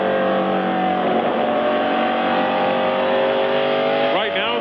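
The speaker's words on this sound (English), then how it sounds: "You can see him getting off turn 2 as he gets by Nadeau." Stock cars race at the 1998 Jiffy Lube 300, a loud sustained engine drone with layered revving tones from several cars, ending in a shifting whine as one pulls past.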